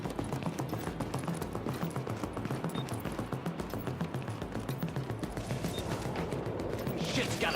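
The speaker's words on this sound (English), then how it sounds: "As you can hear, there's a whole bunch of bullets going off." Rapid gunfire from many weapons in a shooter game, The Division, with a steady barrage of bursts and single shots running throughout, loud and continuous with no pauses.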